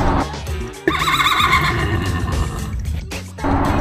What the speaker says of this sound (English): That's what my horse sounds like.